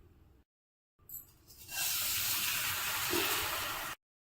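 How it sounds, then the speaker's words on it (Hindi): Drained rice hits hot desi ghee in a kadhai, starting with a few faint clatters, then a loud, even sizzling hiss that holds for about two seconds before cutting off. "अब इस चावल को मैं इस देशी घी में डालकर भूनूंगी।"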